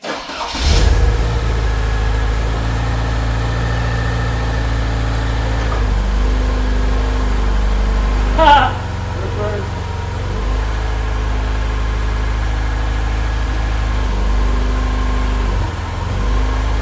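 A 1973 Volvo P1800ES with a four-speed swap cranks and fires up, then settles into a steady, loud, rumbling idle with a brief blip of revs midway and no talking.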